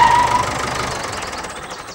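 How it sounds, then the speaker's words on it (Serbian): A tractor engine with a wrecked front end runs with a rough, pulsing low rumble, loud at first and then fading steadily over two seconds. "Jel vidiš da je Petar vratio traktor?"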